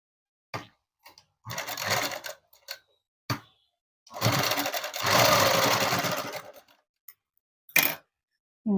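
Sewing machine stitching fabric, heard in several bursts of running stitches, longer around the middle, separated by quiet pauses and brief clicks as the work is adjusted.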